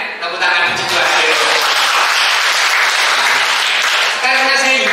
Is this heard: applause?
yes